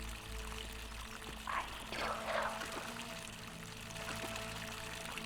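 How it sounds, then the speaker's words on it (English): In the video game The Forgotten City, a fountain fed by an aqueduct pours fresh water in a soft, continuous trickle, faint and steady with no voices over it. "Fountain producing fresh water, which is coming from an aqueduct."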